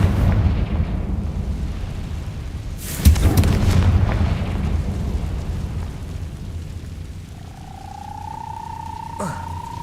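A Confringo spell explosion in Hogwarts Legacy, one loud, booming blast partway through over a rumbling game backdrop, followed by a rising whistling tone and a small pop near the end.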